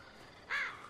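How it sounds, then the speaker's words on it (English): A single crow caws from a video game's zombie-apocalypse world of The Walking Dead, one short, raspy call rising out of a quiet background and fading quickly. "Birdie."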